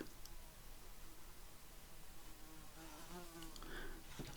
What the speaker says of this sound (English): Sorry about the big buzzy fly.